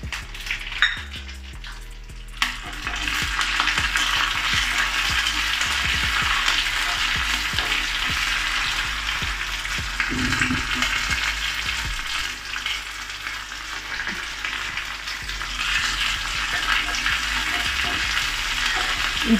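Green chillies fry in a pan at home with a loud, continuous hiss and crackle, and a few clattering knocks come at the start.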